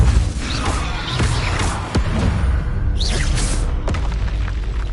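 Spell explosions in the Hogwarts Legacy video game, a dense, loud roar of booming blasts and crashes running continuously, with sharper bursts punching through and brief magical whooshes layered on top.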